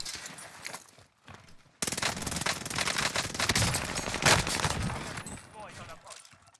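A PPSh submachine gun fires in a video game in rapid, loud automatic bursts that crackle densely for several seconds, with a voice talking over the gunfire.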